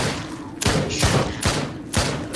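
Video game gunshots from Drop Dead: Dual Strike ring out as four loud, evenly spaced booming shots, each with a short decaying tail.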